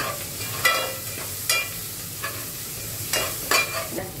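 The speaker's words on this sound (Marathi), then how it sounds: "फोडणीमध्ये आता आपण थोडा आधी सांबार टाकू की ज्यामुळे भाजीला छान स्वाद येईल" Coriander is added to a hot sizzling tempering for capsicum curry. A steady crackle and fry runs throughout, with several sharp bursts of spattering and stirring and no talk.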